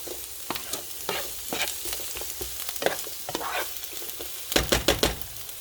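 Onions and garlic fry in a pan with a soft steady sizzle, broken by frequent scraping stirs and a quick burst of strokes near the end, fairly quiet and close.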